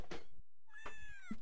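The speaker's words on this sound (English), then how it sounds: "Pet the cat." A cat meowing in a video game: a short mew, a pause, then a longer rising-falling meow and a brief final chirp, close and clear with no talk.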